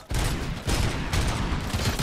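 Loud, dense burst of rapid gunfire from the video game RoboCop Rogue City, continuous shots packed tightly over two seconds with no speech.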